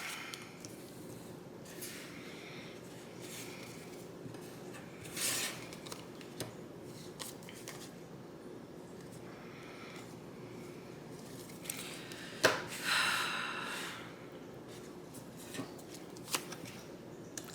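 Tarot cards shuffle quietly at close range in a soft continuous riffle, with a couple of sharper snaps and flicks as cards are drawn, faint and without talking.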